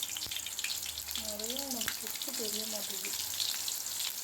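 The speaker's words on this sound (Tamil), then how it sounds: "எண்ணெய் காந்ததுக்கப்புறம் நம்ம மசாலா போட்டு வச்சுருக்கோம்ல கருவாடு நெய் மீன் கருவாடு அதை போட்டுக்கலாம்" Dried ghee fish (neymeen karuvadu) frying in hot oil with masala, a steady broadband sizzle running throughout, with a brief voiced sound in the middle.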